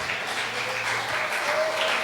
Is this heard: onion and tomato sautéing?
no